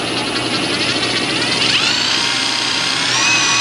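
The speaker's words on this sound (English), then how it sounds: "So we're using the rotary cleaner." A rotary wire brush on a power drill scours Jeep parts from a 1995 Wrangler 4.0 with a loud continuous whine and scrape. The pitch rises slightly as the drill speeds up.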